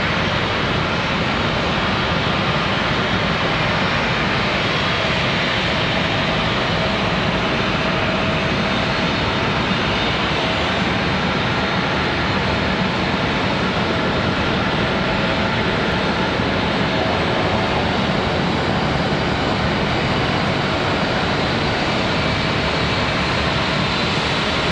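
A Southwest Airlines jet at Charlotte Douglas International Airport gives a continuous, unbroken engine roar at an even loudness for the whole stretch, steady and dense with no pauses.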